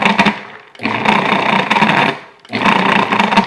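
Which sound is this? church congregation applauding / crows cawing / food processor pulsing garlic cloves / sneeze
food processor pulsing garlic cloves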